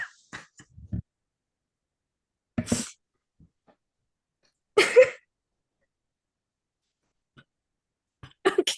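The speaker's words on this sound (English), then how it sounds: "I had to clear my throat" A person clears their throat in several short, rough bursts separated by silence, each close and fairly loud, with nobody talking between them.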